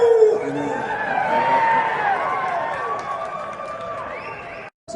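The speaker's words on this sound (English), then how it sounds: "Lively crowd." A lively crowd fills an arena at a UFC Hall of Fame ceremony in Las Vegas, with a dense, steady wash of chatter, shouts and cheering that is briefly cut off near the end.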